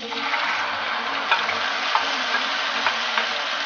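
Marinated chicken liver, onion and curry leaves fry in hot coconut oil: a dense, even crackling sizzle holds throughout, with faint stirring taps on top and no speech.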